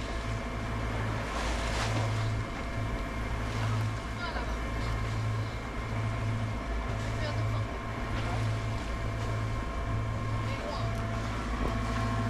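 A sailboat's engine running at 1800 rpm at sea in a light crosswind with a small swell, a steady low droning hum with a pulsing throb, heard alongside wind and water noise.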